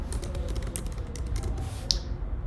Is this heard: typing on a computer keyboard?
yes